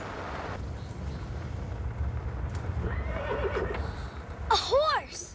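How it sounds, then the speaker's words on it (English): A horse whinnies in a short rising-and-falling neigh near the end, after soft outdoor wind and a faint clip-clop of hooves in a remote rural setting. "A horse!"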